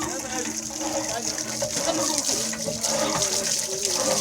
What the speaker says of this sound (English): Should get some water coming out.